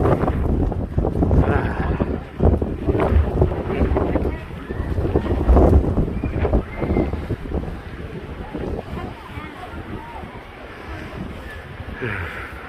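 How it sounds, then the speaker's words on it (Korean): Strong gusts buffet the microphone on the Chaegyesan suspension bridge in Sunchang, Korea, a heavy, rumbling roar rising and falling in waves, loudest in the first half and easing toward the end. "아이고 바람이 세네"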